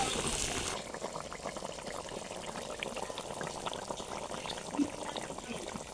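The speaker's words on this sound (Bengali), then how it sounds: "ঝোলটা ফুটে উঠেছে, মাছগুলো দিয়ে দেবো।" Curry gravy for a Boal fish dish bubbles and simmers in a pot, a soft continuous boiling crackle with small pops, fairly faint and close.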